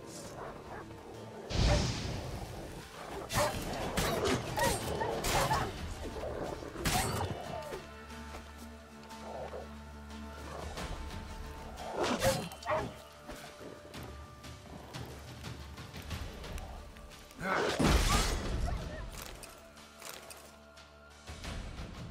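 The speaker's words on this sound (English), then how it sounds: "Rabid dogs." Rabid dogs in The Witcher 3 snarl, bark and clash in a fight, with sharp whooshing strikes and heavy impacts in bursts over game music.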